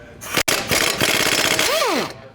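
A 21mm socket tool loosens the lower shock bolts on a 2020+ GM 2500 pickup, making a loud, close burst of rapid rattling hammering that ends with a brief whining spin-down.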